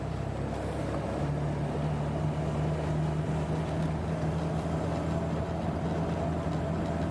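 Turbocharged Pontiac GTO engine revving under boost at part throttle, a steady loud rumble with a rising tone as the revs build, continuous and close throughout.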